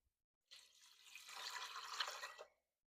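Water poured into a pot of soaked, rinsed beans with garlic and onion for a bean and tomato soup: a steady, fairly quiet splashing stream of about two seconds that swells slightly before stopping.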